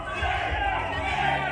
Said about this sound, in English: And listen to the crowd get behind Shane, Cerrito.